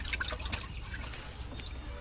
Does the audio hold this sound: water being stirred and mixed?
yes